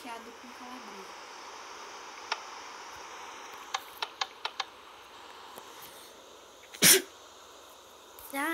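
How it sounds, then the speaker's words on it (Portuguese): A single loud, sharp sneeze from a person close by near the end, after a run of faint ticking clicks over a quiet background. "Ai, espirrei."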